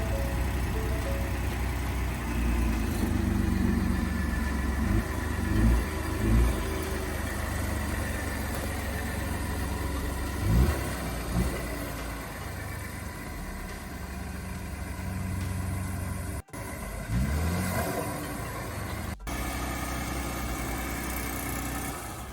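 A rebuilt, previously wrecked 2017 Ford F150 idles just after starting, running without its radiator connected. The low engine rumble is steady and close, with occasional clunks and bumps nearby.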